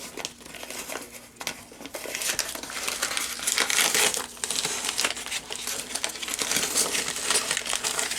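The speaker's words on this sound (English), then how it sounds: "Let me get the last bit of this tape off the bottom." Tape being peeled off the underside of a studio-scale model of the Aztek from Gene Roddenberry's Andromeda, giving a continuous close crinkling, crackling rustle with a few sharp snaps, fairly loud and with no talking.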